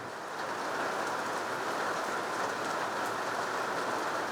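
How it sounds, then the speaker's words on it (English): Heavy rain pours down in a steady, dense hiss, loud and unbroken from start to finish. "It is now hammering down rain."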